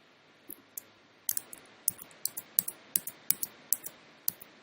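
A computer mouse gives a run of about a dozen crisp, close clicks at an uneven pace, some single and some in quick pairs, against a quiet background.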